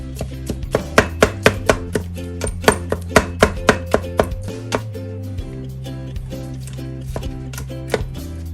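Ground beef crumbled and scraped with a spatula in an Instant Pot for keto beef stroganoff, a steady run of sharp knocking taps against the pot, busy at first and thinning out toward the end.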